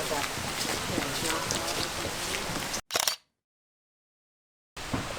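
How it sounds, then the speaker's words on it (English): Heavy rain pours steadily on a hiking trail in the Ledges area of Cuyahoga Valley National Park, a dense close hiss with gusts of wind buffeting the microphone, broken by a sudden cutout into silence before the downpour returns. "It's still raining and raining hard"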